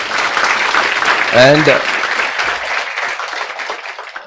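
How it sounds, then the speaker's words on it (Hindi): Audience applause for Rahul, a maths teacher, during a CA Foundation accounts lecture: a steady wash of clapping throughout, with a voice speaking briefly over it near the middle. "एक बार तालियां राहुल के लिए भी"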